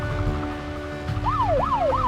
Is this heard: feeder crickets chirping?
no